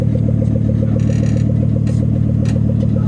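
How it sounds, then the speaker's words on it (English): A deep, throaty engine idles and burbles steadily through a full three-inch exhaust, with a low rumbling pulse and occasional light clatter. "It's a full 3-inch exhaust, man."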